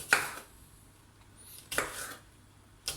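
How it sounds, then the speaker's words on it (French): A knife slices a nectarine into strips for a clafoutis, three crisp cuts landing separately against a quiet kitchen background. "Donc ça je les coupe en lamelles comme ça"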